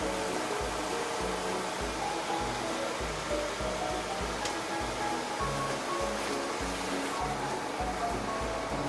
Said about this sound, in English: Check the potatoes. It's boiling